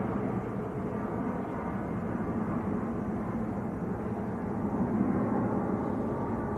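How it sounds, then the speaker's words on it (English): A passenger jet taking off from Manchester Airport on an EasyJet flight to Belfast, a loud, steady, broad engine roar that holds constant and swells slightly near the end, with no voices over it. "That was EasyJet to Belfast that just blasted off."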